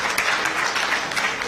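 Audience clapping at a civil society budget forum, a brief dense patter of hands, steady and fairly loud with no talk over it.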